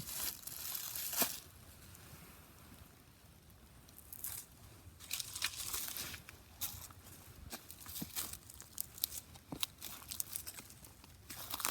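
A freshly sharpened vintage Collins hatchet slices a tomato into thin pieces, giving soft wet crunching and tearing cuts in irregular bursts, close and fairly quiet, with no talking.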